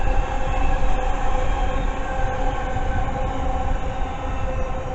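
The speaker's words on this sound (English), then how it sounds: "And then we have an Avanti 390 coming by." An Avanti West Coast Class 390 electric train passes through Northwick Park station in a loud, steady rushing roar with faint rail clicks, close by and sustained throughout, with no voices.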